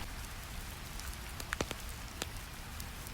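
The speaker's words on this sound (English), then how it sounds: "Rain falls on monastery roofs." Rain falling on monastery roofs, a soft continuous patter with a few brighter drips, steady and fairly quiet throughout.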